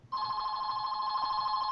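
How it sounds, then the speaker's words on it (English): A telephone rings with a steady electronic tone that starts abruptly and holds evenly, fairly quiet and alone. "I'll get rid of that phone call."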